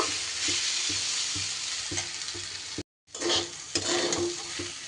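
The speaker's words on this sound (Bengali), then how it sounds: "ডাল আর ডালিয়া সব কিছু এবার খুব ভালোভাবে হালকা হাতে নাড়িয়ে একটু ভাজা ভাজা ভাব করে নেব" Lentils and broken wheat are stir-fried in a pan, giving a steady dry sizzle with regular scraping strokes of the spoon, broken by one short silent gap.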